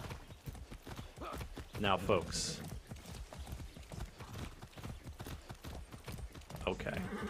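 Horse hooves clip-clop steadily while riding in the video game Far Cry 6, a continuous rhythmic patter under a voice as he speaks.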